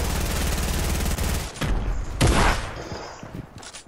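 A gun sprays rapid automatic fire in a video game, a dense, loud burst for about a second and a half, followed by a few heavy booming shots and impacts that fade out.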